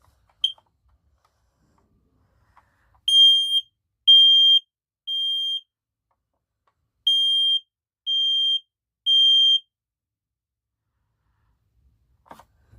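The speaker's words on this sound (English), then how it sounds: "we'll start the smoke detector test" First Alert smoke detector sounding its test alarm: two sets of three loud, piercing high beeps, each about half a second long, separated by a short pause in an otherwise quiet room.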